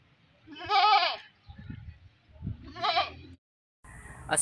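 A goat bleating at a livestock market, two loud wavering bleats close by separated by a pause, with faint shuffling and background noise between them.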